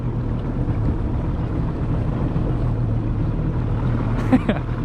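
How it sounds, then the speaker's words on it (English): A low, steady drone of a boat motor running through floodwater over a flooded Indiana highway, with wind rumbling across the microphone and a brief faint knock near the end. "Going down the road in a boat."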